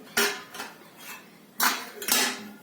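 Steel cooking pots, utensils and idli stands clank and clatter against each other in a few sharp bursts, close up, with short pauses between knocks.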